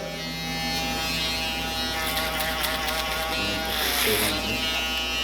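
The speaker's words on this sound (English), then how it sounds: "a little bit of my shaver one more time to make sure the bottom line is thoroughly out of there" Andis ProClip electric shaver buzzing steadily and close up while finishing the bottom line of a high skin fade at a barbershop, a continuous whine with brief shifts in pitch as it passes over the skin.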